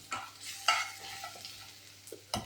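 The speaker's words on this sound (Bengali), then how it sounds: "রসুনটা একটু ভাজা হয়ে গেছে" Minced garlic paste and whole black cumin frying in hot oil in a home kitchen, with a soft sizzle under several sharp clinks and scrapes of a spatula stirring the pan, with no voices.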